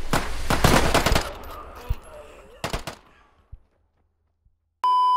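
A quick burst of rapid gunshots in a survival video game rings out, followed by a few scattered shots fading off, then a sudden electronic tone at the end.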